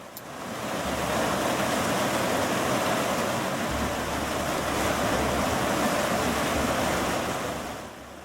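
Water rushes over boulders and through deep holes in a creek on Hinchinbrook Island, North Queensland, a steady broadband roar that is close and fairly loud and holds evenly from start to finish.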